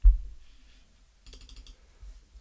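A computer mouse clicking, with a short run of quick light clicks close to the microphone against a mostly quiet background, and no speech.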